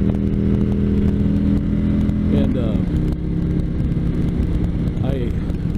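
A 2019 Harley-Davidson Electra Glide Police Edition motorcycle rumbles steadily while being ridden, its engine drone continuous and close with shifts in pitch, under heavy wind noise and someone talking over it.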